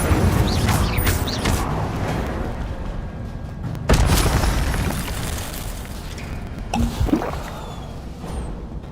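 Incendio fire spells go off in Hogwarts Legacy, a couple of fiery bursts with sudden loud onsets that fade into a roaring crackle amid busy combat effects.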